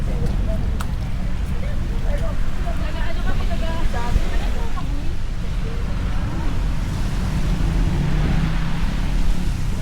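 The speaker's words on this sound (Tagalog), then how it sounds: "Ayan, lakas ng hangin." Typhoon wind in Baguio roars and buffets continuously against the microphone, a dense rushing noise with faint voices half-buried beneath it.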